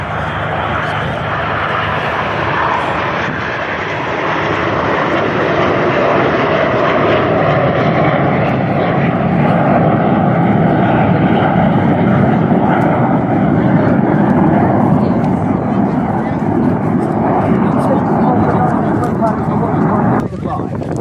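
A Tornado bomber jet roars past at an air show, a loud, sustained jet engine rumble that holds steady for about twenty seconds, with a crowd and commentary faintly underneath.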